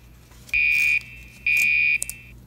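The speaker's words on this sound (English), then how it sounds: "It's gonna be extremely quiet because now I'm farther away from the alarm." A Gentex horn strobe fire alarm heard from a distance, giving two long steady horn blasts with a short gap between them, then a brief chirp, fairly faint against a low background hum.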